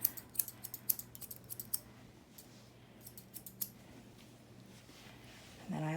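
Scissors trimming fur on ears, a run of quick, faint snipping clicks in two short bursts, close by, with a quieter pause between.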